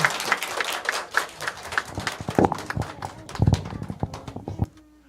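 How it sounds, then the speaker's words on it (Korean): A congregation at a Korean Sunday worship service claps to celebrate an 80th birthday, with uneven, fairly close claps that rise and thin before stopping abruptly near the end. "좀 마음을 더 담아서 팔순생신 축하드립니다 하는 박수."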